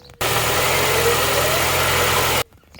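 An old car's engine runs steadily right after starting, a loud even mechanical drone that cuts in abruptly and stops just as suddenly about two seconds later.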